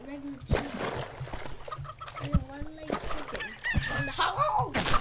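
A chicken in the video game CHKN clucks in short repeated bursts amid game sounds, with people talking over it throughout.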